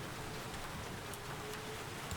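Pouring rain drums steadily on a tent in a forest, a dense continuous hiss of drops hitting fabric, close and loud with no pauses, no voices heard.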